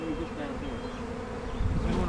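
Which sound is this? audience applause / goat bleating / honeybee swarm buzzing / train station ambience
honeybee swarm buzzing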